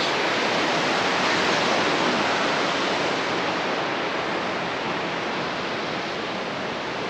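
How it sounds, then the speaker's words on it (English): A mountain stream runs strongly near Capel Curig, a steady broadband rush of falling, splashing water that stays loud and unbroken throughout, with no voices over it. "Waterfall, well, mountain stream running through, just love the sound of running water."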